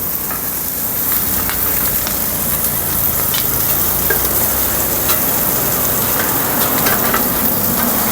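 Pad thai with fresh shrimp being stir-fried on a hot wok at a busy night market stall in Rasi Salai, giving a loud continuous sizzle with scraping stirs and clatter throughout, no talk.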